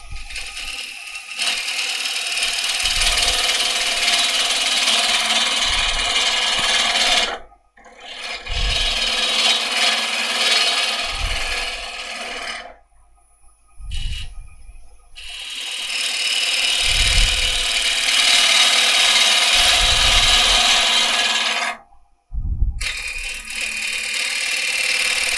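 Wood being turned on a lathe, a gouge gently nibbling away an edge in long steady passes of rasping, scraping cut, broken by brief pauses between strokes, close and fairly loud with no talk.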